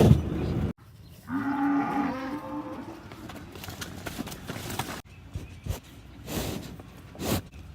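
Young heifers moo on a farm, a few drawn-out low calls near the start, followed by shuffling hoof and movement noises and a brief voice.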